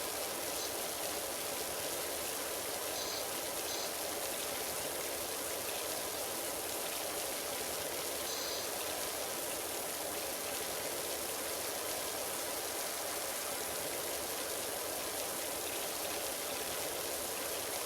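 A pressure washer sprays water in PowerWash Simulator while cleaning a dirty back garden, giving a continuous, even hiss of water that holds steady at moderate loudness and has no breaks.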